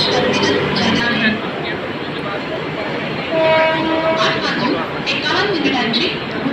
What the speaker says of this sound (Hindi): प्लेटफॉर्म क्रमांक 2 पर आई हुई लोकल 8:41 की मुंबई छत्रपति शिवाजी महाराज टर्मिनस जाना है